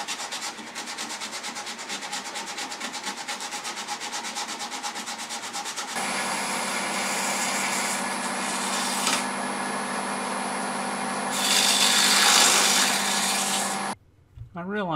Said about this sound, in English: This end grain will be tough to sand.